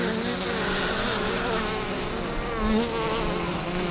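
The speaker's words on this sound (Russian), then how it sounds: "поближе показываю пчелок" Buckfast honeybees in a winter hive give off a dense, continuous buzzing drone, steady and close, with no speech over it.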